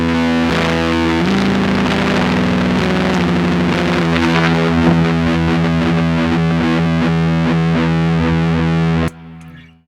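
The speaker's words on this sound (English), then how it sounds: "Now we're stacking the super overdrive in front of the Fuzz Face, and I'll just turn the Fuzz Face on." Electric guitar fed through a super overdrive stacked into a Fuzz Face pedal, thick saturated fuzz chords ringing loud and close with a buzzing, spluttering edge, cutting off abruptly near the end.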